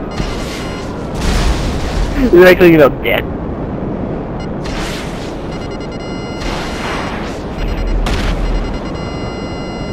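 Heavy booms of cannon fire in GTA 5, several blasts at intervals, with a person talking over them.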